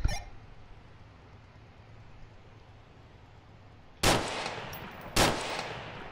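Sniper rifle shots ring out in the Onward VR shooter: two sharp, loud cracks about a second apart near the end, each with a short echoing tail, after several seconds of quiet ambient hiss.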